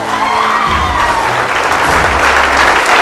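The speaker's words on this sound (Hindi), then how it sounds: "मैं चाहता हूँ उनके लिए जबरदस्त ताली होनी चाहिए सबके लिए।" Seminar crowd breaks into loud, sustained applause with scattered cheers and whoops at a motivational closing session, clapping dense and close with a low rumble underneath.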